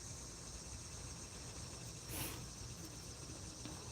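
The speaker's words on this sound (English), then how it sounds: "But them the bugs you hear in the country." Insects chirp in the countryside in a constant, faint, high-pitched chorus with a brief swell partway through, and no voices are heard.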